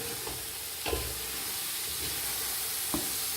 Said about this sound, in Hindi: गाजरों को अंदर ऐड करती जाऊंगी। इस तरह इसको मिक्स करेंगे।